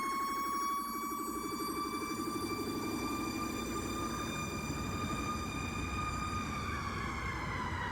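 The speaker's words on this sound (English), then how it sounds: "you hear that like that air horn? That's him pushing on the horn." Fire truck siren wailing steadily with the truck's air horn blaring over it, a loud, continuous rising and falling tone layered with harsh sustained horn blasts.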